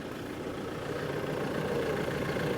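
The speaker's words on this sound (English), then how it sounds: "engine sounds fine. It just doesn't rev." A diesel Audi TDI engine idles steadily at close range, a low, even rumble with a faint rattle and no revving, running alone without voices.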